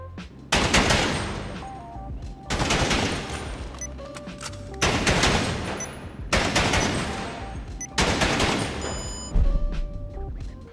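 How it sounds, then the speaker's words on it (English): Five loud bursts of SMG fire in GTA Online, each a rapid crackling volley lasting about a second with short pauses between, close and with no talk over them. "you want to be going for a burst fire action"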